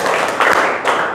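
Hand claps in a classroom clapping game, a couple of distinct claps close by against room noise with no speech over them.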